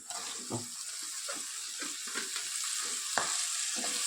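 Vegetables sizzle in hot oil with pasta masala in a pan, a steady frying hiss broken by repeated scraping stir strokes over about four seconds, close and moderately loud, with no talking.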